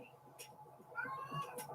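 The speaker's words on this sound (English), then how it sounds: "Excuse the very vocal cat who decided he needed to lock himself in the bathtub" A very vocal male house cat meows from inside a bathtub, giving a few brief cries at moderate distance.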